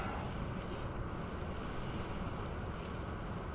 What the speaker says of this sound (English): Wind is just barreling in through here